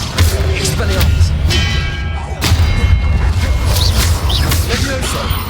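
Expelliarmus spell cast in Hogwarts Legacy, heard as dense, loud magical whooshes and booming impacts layered with continuous game ambience and effects throughout.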